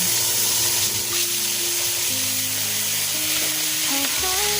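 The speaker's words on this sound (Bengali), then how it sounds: "এখন আমি মাছগুলো ভেজে নিব।" Rohu fish pieces sizzle loudly and continuously in hot oil in a kitchen pan, a steady crackling fry with occasional brief tonal squeaks and no talk.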